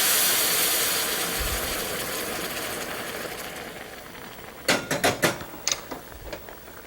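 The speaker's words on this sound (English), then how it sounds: "Our water's boiling. Let's add it to the rice." A loud hissing sizzle fades gradually, then a burst of sharp crackles and pops follows as boiling water is poured into rice cooking in a hot pan, with no talking.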